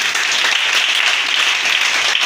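Congregation at a church service applauding and cheering, a dense, steady wall of clapping at full volume with no break for its whole short length.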